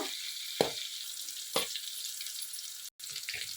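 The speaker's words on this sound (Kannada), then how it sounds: "ಇಲ್ಲಿ ಹಸಿಮೆಣ್ಸಿನ್ಕಾಯಿ ಒಳ್ಳೆ ಫ್ರೈ ಆಗಿದೆ ಕಣ್ರಿ" Green chillies fry in oil in a pan with a steady close sizzle, broken by a couple of brief clatters and a short gap.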